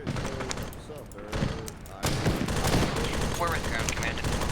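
Rapid bursts of gunfire in Arma 3, during a Warhammer 40k-themed operation, crackle through a dense, noisy mix, growing louder and busier after a brief lull, with voices faintly present.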